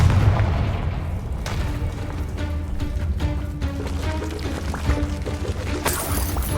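Confringo fire spell blasts in Hogwarts Legacy, a dense run of booming, crackling impacts and bursts with a bright sharp crack near the end, loud and close throughout.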